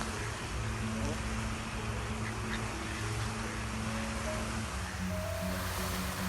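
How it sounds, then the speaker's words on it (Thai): Wild ducks quacking in a busy flock while being fed in a large city park, steady and moderately loud over a constant wash of background noise, with faint voices mixed in. "หลังจากดื่มชาแล้วเราก็มาเลี้ยงเป็ดกันนะคะ"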